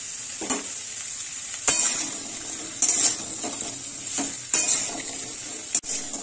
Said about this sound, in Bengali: সবজিগুলোকে খুব ভালো করে ভেজে নেব হালকা।